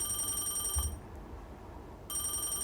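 A restaurant telephone rings with a bright electronic trill, two bursts separated by a quiet gap, clear and fairly close with no talking over it.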